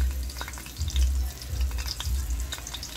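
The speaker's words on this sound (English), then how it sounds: "The oil is hot. I'm gonna start by frying up this curry" Curry frying in hot oil that was already used to fry fish, giving a close, busy crackle and sizzle with uneven bursts and stirring, and no voices.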